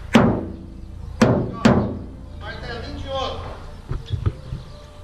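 Three sharp metallic taps ring out, spaced apart, as a small hammer works dents out of a removed car roof, followed by quieter clatter and a few softer knocks, with voices murmuring in the background.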